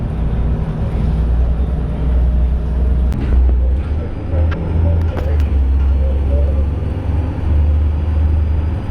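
A Denning CB60 Evo 2 bus with a Caterpillar C7 engine and Allison six-speed automatic runs at a steady, loud low drone heard from inside, with road and cabin rumble and a few faint clicks throughout.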